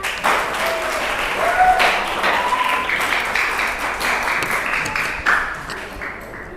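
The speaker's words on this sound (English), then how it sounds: "Let's give a powerful clap to welcome the first evaluator, Miss Lala" An audience at a speaking summit claps to welcome an evaluator, a sustained round of applause with scattered louder claps and faint voices mixed in, thinning out at the end.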